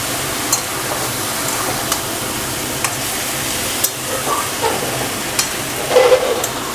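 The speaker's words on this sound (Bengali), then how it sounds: "ভালো করে কিন্তু শাকের সাথে আলু রসুন পেঁয়াজ চিংড়ি মাছ সবই সুন্দর করে মিশিয়ে দিতে হবে" Fiddlehead fern greens stirred in a pan with potato, garlic, onion and prawns, a soft steady sizzle with a few light scraping knocks of the spatula at intervals.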